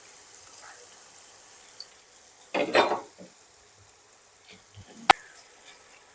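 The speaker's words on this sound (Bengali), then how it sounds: "এই মশলাটাকে ভালো করে ভাজবো" Spice paste with green peas fries in a wok, with a faint low sizzle. A spatula scrapes and stirs in a brief burst, followed by a few scattered clinks and a single sharp metallic tap.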